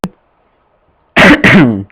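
A single harsh cough, close and loud, in two quick bursts after a brief quiet moment.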